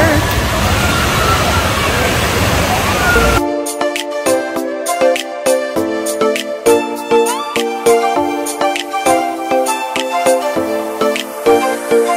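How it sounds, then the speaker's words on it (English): Water at a water park's lazy river rushes and sloshes loudly for a few seconds, then cuts abruptly to bright, rhythmic music. "Look at those waves, guys. Isn't that fun? This is what they call the lazy river."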